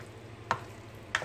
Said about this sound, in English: So I'm going to give it a stir with the spoon.